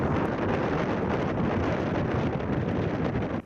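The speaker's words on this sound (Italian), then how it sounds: "Le folate di bora entrano nel silos, il vento fischia" Gusts of bora wind blow into a silo in a steady, loud, rushing roar that holds for several seconds before cutting off abruptly.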